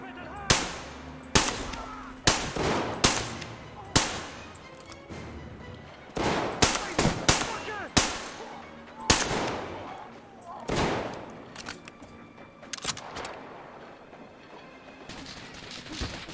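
Gunfire in the game Metro Exodus, with sharp, loud shots spaced irregularly through the scene, some in quick pairs and bursts, over a busy background.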